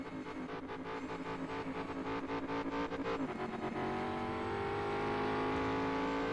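Mosler MT900R race car engine in GT Sport revs hard and fluctuates, a loud throbbing roar with rapid throttle blips that settles into a sustained higher drone.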